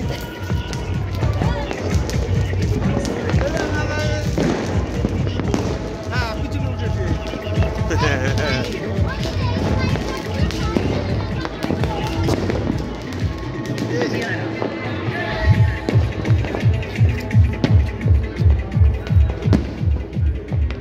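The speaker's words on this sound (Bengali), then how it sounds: "তো চারিদিকে বাজি ফাটছে" Fireworks and firecrackers burst all around on New Year's night, with dense overlapping pops under steady crowd noise and chatter, turning into a fast, loud run of rhythmic bangs near the end.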